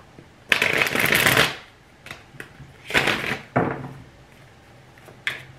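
Tarot cards being shuffled by hand in a few separate bursts: one long riffle, then shorter flurries of papery card rustle and taps, close and fairly loud with pauses of quiet between them and no talking.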